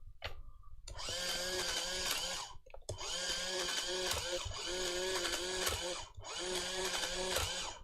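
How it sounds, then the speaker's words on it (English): A two-color printer works in loud, whirring bursts, with four mechanical runs of about one to two seconds each separated by short pauses, close and alone. "Apparently this is a 2-color printer."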